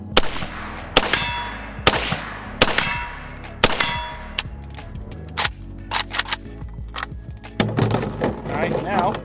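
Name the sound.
rifle shots ringing an Evil Roy steel target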